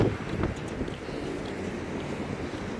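Strong gusts on a very windy day buffet the microphone with a continuous low roar, loudest at the very start and easing slightly but never stopping; no one speaks.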